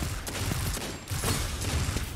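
Gunfire from an oversized, screen-blocking gun in a video game comes in several sharp bursts over a continuous rumbling backdrop, with brief gaps between volleys.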